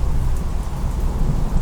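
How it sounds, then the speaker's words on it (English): Heavy rain pours steadily with low, continuous thunder rumbling beneath it, a dense, even roar without a break and with no voices. "Outside, the cheerful weather had turned gloomy. Rain poured. Thunder rumbled."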